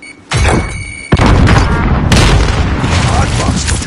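A frag grenade blast in the video game Warzone: a sharp, loud boom followed by a second heavy detonation with a long rumbling tail, close and filling the scene.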